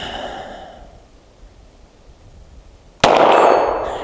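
A single sharp, loud gunshot from a CZ P-10C pistol firing S&B 124 grain FMJ cracks out suddenly after several seconds of near quiet and a soft breath.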